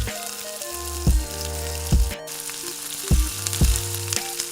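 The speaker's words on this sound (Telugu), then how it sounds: "కట్ చేసుకున్న ఉల్లిపాయ, పచ్చిమిరపకాయలు, కరివేపాకు వేసుకొని అవి కలర్ చేంజ్ అయ్యేంత వరకు వేయించుకోవాలి" Onions, green chillies and curry leaves fry in a pan with a steady, close sizzle, broken by a few louder scraping stirs and a brief clatter midway; no one speaks.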